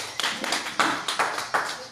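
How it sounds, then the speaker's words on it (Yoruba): Audience applause at a Yoruba Nation Global gathering in Ekiti State, a crowd of hands clapping in quick uneven bursts that swell and fade in a steady pulse, fairly close and loud, with no talk over it. "ẹ pàtẹ́wọ́ fún wọn ẹ jọ̀ọ́"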